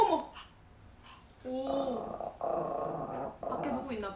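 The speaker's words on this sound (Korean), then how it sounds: "체리가 으르렁거리네" A dog growls indoors in several low, rumbling bursts that rise and fall over a few seconds, fairly close and moderately loud, with a little human vocal sound mixed in early on.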